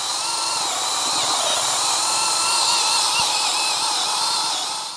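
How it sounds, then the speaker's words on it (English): A cordless drill whines steadily outdoors, a high continuous motor tone held for several seconds before tapering off slightly at the end as the battery dies. "Well, my drill just died"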